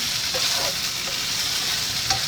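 Water-cooked burrito filling frying in a little oil, a dense continuous sizzle close up with a few faint stirring touches, no voices.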